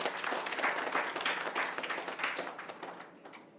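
An audience at a public event applauds, a dense, steady patter of many hands clapping at moderate distance that gradually fades toward the end.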